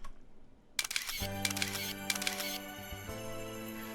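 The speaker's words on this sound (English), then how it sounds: "The shutter then takes a few snaps as it takes the photo." Camera shutter in the video game Nekopara Vol. 4 firing a quick burst of snaps as a photo is taken, sharp clicks layered over steady game music with tonal chimes.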